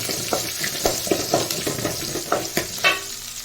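Onions and curry leaves being stirred and sautéed in a pan for an egg curry, a steady close sizzle broken by repeated scraping strokes of the spoon against the pan.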